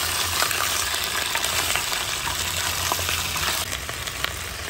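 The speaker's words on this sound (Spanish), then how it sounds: "En lo que se está dorando el pollo" A whole chicken, skin left on, browns in a pan with a steady, dense sizzle and crackle of frying fat, close and continuous throughout with faint stirring, no voices.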